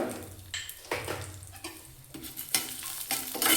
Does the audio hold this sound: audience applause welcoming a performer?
no